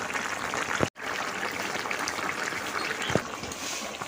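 Ash gourd and fish curry bubbles in a pot, a steady close simmering rush with a couple of brief knocks and one short gap.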